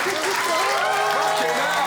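A studio audience claps in a dense, steady burst of applause, with voices mixed into the clapping.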